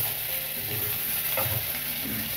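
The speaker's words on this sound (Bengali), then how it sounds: "পেঁয়াজ কুলি আর আলুটা ভাজা ভাজা করা হয়ে গেছে" Onion greens and potatoes fried together in a pan give a continuous close sizzle with occasional scraping stirs and bursts of crackle.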